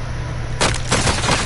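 Video-game gunfire with a sudden loud burst of shots after a steady background hum, the shots rattling close and dense through the rest of the moment.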